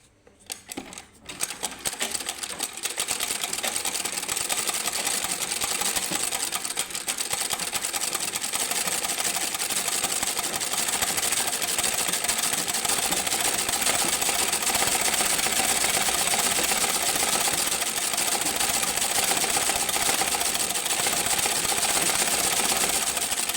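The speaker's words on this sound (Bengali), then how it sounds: "সেলাই দিয়ে নিচ্ছি" A sewing machine stitches the side seam of a skirt, running steady and fast with a rapid mechanical whir and clatter close up, almost unbroken for the whole stretch after a brief start.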